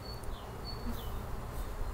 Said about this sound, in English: Another frame full of bees and brood.